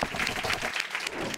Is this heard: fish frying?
no